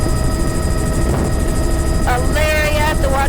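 A helicopter engine drones steadily overhead above a shoreline with kelp, with a constant whine and rotor hum under nearby talking and a rising whistling tone toward the end.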